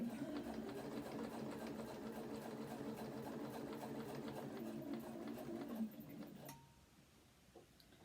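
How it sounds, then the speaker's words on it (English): A sewing machine stitches a folded rose pinwheel quilt block with a fast, even, rhythmic needle chatter. It stops abruptly near the end, leaving faint room quiet. "we are at the end of the machine sewing"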